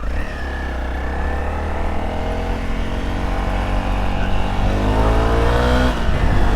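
A motorcycle engine revs hard on a winding road trip, loud and close with rising and falling pitch as it accelerates through curves, running continuously with wind noise.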